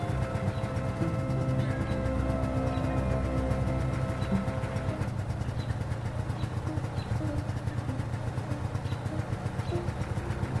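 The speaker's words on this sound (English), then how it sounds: "It's already lit. It's an old engine." An old engine idles steadily in the Willy Morgan game, a continuous low mechanical rumble with a fast, even chugging pulse that holds at a constant level throughout, with no speech.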